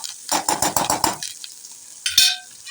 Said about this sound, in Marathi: फोडणी छान परतली आहे